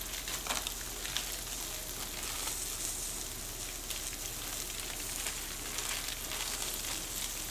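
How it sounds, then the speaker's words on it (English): Zucchini frying in a hot pan gives a steady, soft, crackling sizzle throughout, with small pops and no voices. "Ooh, zucchini's browning nicely."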